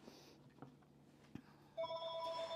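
A household telephone rings in a kitchen, a bright electronic ring that starts near the end after quiet background clatter, loud and close.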